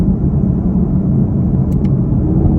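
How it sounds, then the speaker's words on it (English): Steady low road rumble inside a Chevy Camaro LT1 rolling over concrete pavement, a constant broadband drone with faint tire hiss and no voices. "On the concrete pavement, you hear a little bit more road noise, but really not a whole lot more."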